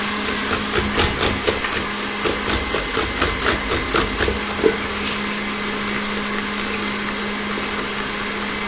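A hand mixer beats buttercream cake batter with rapid rhythmic knocking as the beaters strike the bowl, over a steady motor whir that continues alone after the knocking stops.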